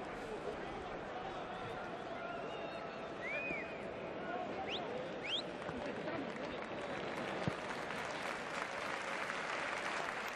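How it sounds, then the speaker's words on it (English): Spectators at a Segunda Division football match between Real Valladolid and Córdoba applaud as a player returns to the pitch, a steady wash of clapping from the stadium crowd under a match commentator's voice. "draws a round of applause from the Valladolid faithful"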